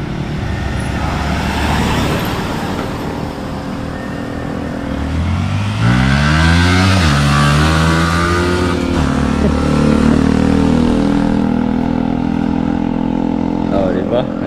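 A motorcycle engine revs up and down close by, with rising and falling pitch sweeps over a steady engine drone and faint traffic noise.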